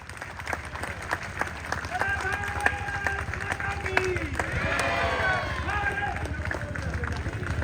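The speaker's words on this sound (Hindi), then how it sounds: "जोरदार तालियां इनके लिए।" Crowd applause welcoming the Chief Justice of India at a gathering in his ancestral village of Petwar, a steady round of clapping and cheering that swells and holds, with a voice speaking over it.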